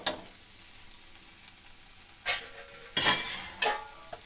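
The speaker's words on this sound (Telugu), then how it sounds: "ఈ విధంగా మధ్య మధ్యలో ఒకసారి కలుపుతూ ఉండాలి" A spoon stirs okra curry (bendakaya) in a pan now and then. A faint sizzle runs under three or four sharp scraping clinks of utensil on metal, close by and grouped near the end.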